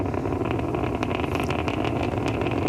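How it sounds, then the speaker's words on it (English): SpaceX Falcon 9 first stage climbing after liftoff from Complex 39A at Kennedy Space Center, heard as a dense, steady, loud rumble with crackling texture throughout, no talk. "We can hear the characteristic rumble as the first stage heads into space."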